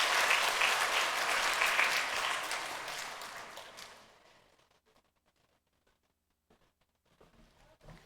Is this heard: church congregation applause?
yes